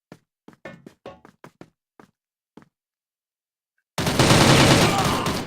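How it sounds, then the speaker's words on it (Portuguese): Gunfire in the video game CrossFire: a few sparse, light taps give way at about four seconds to a loud, dense, sustained burst of rapid shots that runs to the end. "Dá um tiro nele na cabeça."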